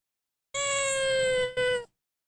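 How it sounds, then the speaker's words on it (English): A cat lets out one long, clear, drawn-out meow, loud and close, with a brief break before a short final tail, alone with no talk. "Are you done being a bad kitty?"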